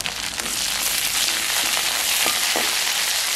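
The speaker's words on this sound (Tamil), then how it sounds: "நாங்கள் இதுக்குள்ள கொஞ்சம் எண்ணெய் விடுவோம், கடுகு கொஞ்சம் போடுவோம், கருவேப்பில போடுவோம்" Mustard seeds and curry leaves frying in hot oil give a steady, dense sizzle with a few sharper pops and crackles, close and loud throughout, with no talking.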